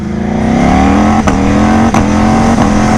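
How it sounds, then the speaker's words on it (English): A loud Ducati Panigale V4 motorcycle engine with an aftermarket exhaust revs up hard while accelerating, its pitch climbing steadily, with sharp exhaust pops cracking through about three times. "You can hear the pops in that aftermarket exhaust too, which sounds really good."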